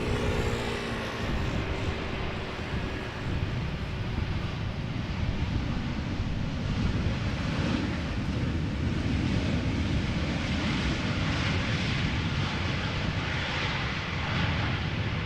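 Heavy airliner landing in a crosswind at Amsterdam Schiphol Airport, a continuous loud engine roar with rumbling low end and wind buffeting the microphone, steady throughout and heard alone.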